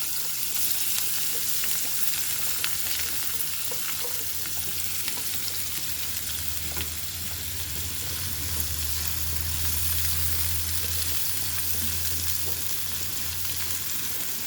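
Chopped onion and slit green chilies frying in a pan of hot oil, a steady close sizzle with soft crackles running continuously, no voices.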